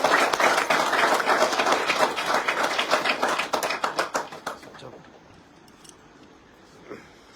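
Audience clapping at a religious katha on Ram Navami, loud crowd applause that thins into a few scattered, distinct claps before dying away to quiet room noise.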